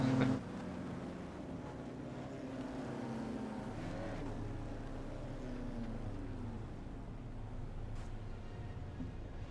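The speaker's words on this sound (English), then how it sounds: "we just wait for the last couple of cars to cross the line" Race cars crossing the finish line at Summit Point raceway: a steady engine drone passes at a moderate distance, its pitch sweeping as a car goes by, continuous and fairly faint.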